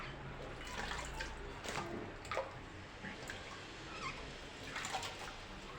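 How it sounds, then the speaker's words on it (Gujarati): Potato wafer slices are rinsed in water in a vessel, giving soft splashing, trickling and clinking sounds at moderate distance. Faint background noise runs underneath, with no speech. "એકદમ ચોખ્ખું પાણી થાય ત્યાં સુધી બટેટાની વેફરને ધોઈ લેવાની છે"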